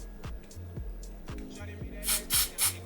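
Three quick hissing bursts from a spray can used in a glueless lace wig install, close and distinct, coming after a stretch of low rumbling background.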